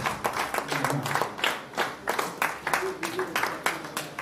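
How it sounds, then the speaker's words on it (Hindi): An audience applauds at a corporate event in Hyderabad, with steady, close clapping over a background of crowd murmur and an amplified voice speaking through most of it. "तालियां तो बनती है"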